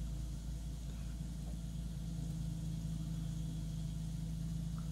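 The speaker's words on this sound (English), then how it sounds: "let's mute the engines a little bit so you can hear me much better than you hear me now" Engines of a Diamond DA50 RG light aircraft drone steadily in flight, a low, even, muffled hum held at a quiet level throughout with no talking.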